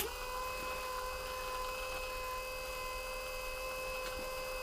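Electric motor and gearbox from a Toylander mini Land Rover Series 1 run clamped in a vise on a battery, giving a steady, even whine with layered tonal hum that holds constant throughout without speech.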